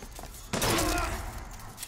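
Gunfire in the shooter video game Bioshock Infinite, a sudden loud burst of shots and impact noise that rings on briefly before fading back into quieter game ambience.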